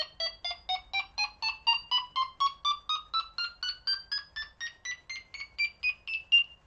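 Delkim Txi-D fishing bite alarm sounding a loud, high-pitched tone set to its loudest setting, a rapid series of about twenty evenly spaced electronic beeps that climb gradually in pitch, close and alone with no talking.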